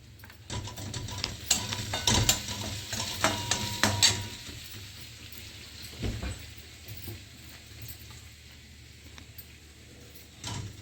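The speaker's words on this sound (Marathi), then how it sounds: "कढीपत्ता टाकत आहे" Curry leaves dropped into hot oil for baingan bharta, crackling and sizzling with a burst of sputtering and stirring scrapes at first, settling into a quieter fry.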